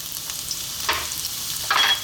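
Garlic sizzles in hot cooking oil in a wok for a beef and bean sprout stir fry, a steady close crackle with a couple of louder bursts as it is stirred, no talking.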